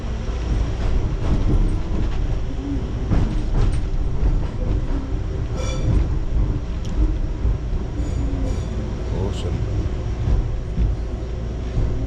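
Train locomotive idling or moving at a station, a loud continuous low rumble with steady engine drone and a few faint squeaks and clicks over it.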